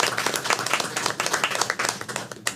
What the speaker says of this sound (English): Let's give Katie a round of applause